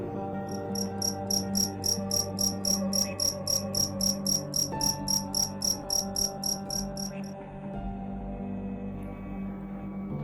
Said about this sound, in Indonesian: Hanya ada suara jangkrik yang melengkapi kesunyian.